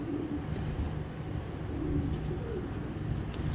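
Racing pigeons, tagged club-raced birds, coo faintly and steadily amid low background rumble and wind, a soft continuous murmur with no speech.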